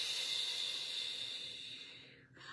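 A long, steady hissing exhalation through pursed lips, close and soft, gradually fading before a brief breath at the end.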